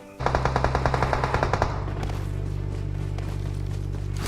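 Rapid automatic gunfire from the BGMI battle royale game, a fast burst of about a dozen evenly spaced shots up front, then a steady loud rumble of game sound and engine-like drone with no talking.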